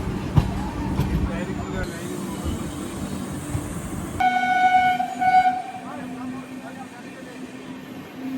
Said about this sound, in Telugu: జస్ట్ 2 minutesలో మన ట్రైన్ అయితే స్టార్ట్ అయిపోయింది మళ్ళీ.